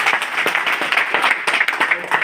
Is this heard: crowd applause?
yes